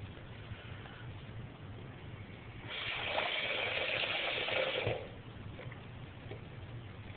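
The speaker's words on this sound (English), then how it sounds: "I can keep the faucet running on and on." Kitchen sink faucet gushing water into a sink, a steady rushing flow that swells louder for a couple of seconds over a low background hum, then eases back.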